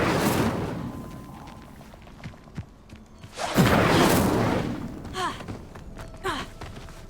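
A fire spell cast in the video game Hogwarts Legacy bursts out as a loud whooshing rush of flame, swelling midway and trailing off, with softer thuds and crackles before and after.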